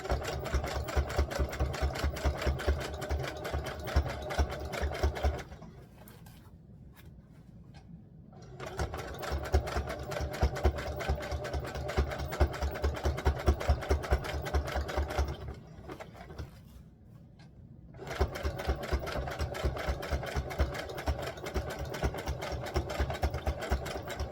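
A sewing machine stitching a tulle overlay on a doll dress runs in steady rapid bursts, a close mechanical whirring chatter that stops briefly twice before starting again, with no talk over it.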